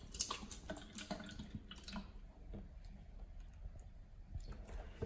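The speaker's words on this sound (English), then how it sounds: "Let's pour some water in." Purified water from municipal sources poured into a container for pH and TDS testing, a steady splashing trickle with small drips running throughout the clip, fairly faint and alone.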